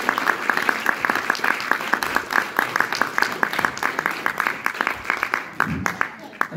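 Audience at a veterans' association general assembly held at a military school applauding the cadets, a dense steady patter of many hands clapping throughout, with talk running through the crowd.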